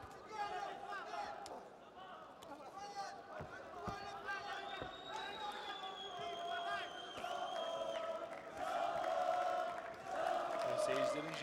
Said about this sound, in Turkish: Seyircilerin Jaba'ya desteği devam ediyor